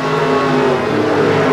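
A race car powers hard out of a corner, its engine note loud and sustained in a continuous rising drone without a break.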